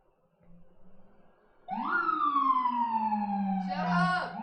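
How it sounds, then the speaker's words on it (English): Emergency vehicle sirens wail outside, starting with a faint rumble and then swelling into a loud, sweeping siren tone with a quick yelping shift near the end, heard alone at moderate distance. "It has been Siren City today over here."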